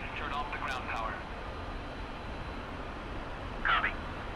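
An F-86F Sabre jet engine idling on the ground in the DCS flight simulator, a steady broadband rumble and hiss running throughout, with a few brief higher chirps standing out over the constant drone.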